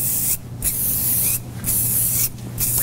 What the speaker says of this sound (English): apply a little bit of Wax Blast to the remaining hair that's down